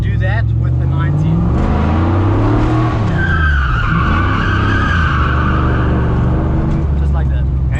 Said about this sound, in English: We clutch in, handbrake up, handbrake down, clutch out, accelerate. We're going to do that with the 90.